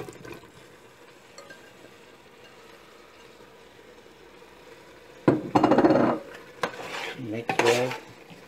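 Boiled beef mixed in a pot for Kerala beef biryani: a long quiet stretch gives way to a few loud bursts of metal spoon clanking and scraping against the pot near the end.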